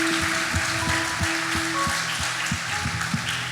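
Applause from a crowd at a church worship service, a dense steady clatter of clapping with rhythmic thumping beats and music underneath, sustained and loud throughout.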